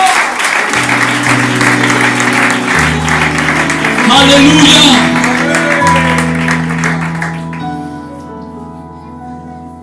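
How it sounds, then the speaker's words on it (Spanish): Church congregation applauding during a Spanish-language service, sustained clapping over held keyboard music, with a voice calling out during it, before the music fades out. "Le podemos dar un fuerte aplauso al Señor."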